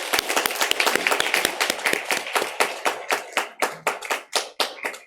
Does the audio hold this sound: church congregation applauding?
yes